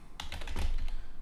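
Rapid computer keyboard typing, a quick run of close, crisp key taps with no voices.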